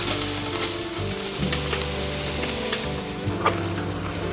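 Soya chunks browning in coconut oil in a pan, a loud continuous sizzle with crackling spatters and the scrape of stirring, close up and with no one talking.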